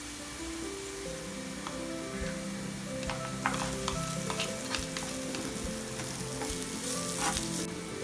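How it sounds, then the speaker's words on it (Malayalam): Onion with grated ginger and garlic sautéing in a pan for a chicken puff pastry filling, a soft, constant sizzle, then sharper crackles and stirring clicks in the second half, nearby and without voices. "ഇതിലേക്ക് ഗ്രേറ്റ് ചെയ്ത് വെച്ച ജിഞ്ചറും ഗാർലിക്കും ചേർത്ത് കൊടുക്കാം"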